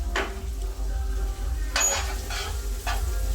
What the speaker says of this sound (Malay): So kita goreng macam biasa lah sampai daging kisar ni masak.